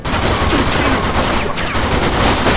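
Pistol fire in the video game Mafia 2: a loud, dense crackle of shots rings out without pause, sounding close and packed tightly into the short stretch.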